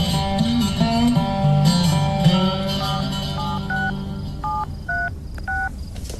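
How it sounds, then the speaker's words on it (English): Telephone keypad tones beep one after another in an uneven sequence, with a tonal background of music underneath, in a drama scene at night at home. "What are you doing with that phone? Who are you calling?"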